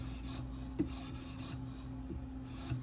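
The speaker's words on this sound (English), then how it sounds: "I'm now polishing it with the higher grit," A K390 steel Delica knife edge is polished on a higher-grit stone of a TSProf K03 sharpener, giving soft, steady rasping strokes close by and faint over a low background hum.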